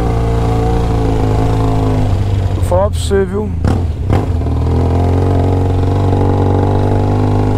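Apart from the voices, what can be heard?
motorcycle riding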